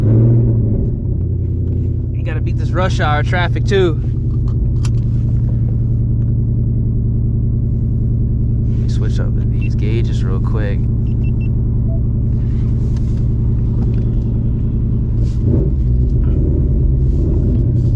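A 500 hp Ford Mustang GT cruises home through rush-hour traffic, its deep, steady engine rumble filling the cabin throughout while someone talks briefly over it.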